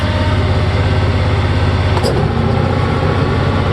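A 46-inch single-stage snow blower engine roars loudly and continuously at close range, with a brief sharp catch partway through before it keeps running.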